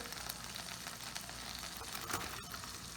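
Butter melting in a pan on low heat, giving a steady, faint, even sizzle that runs unbroken throughout, with a brief slightly louder crackle near the end and no talking.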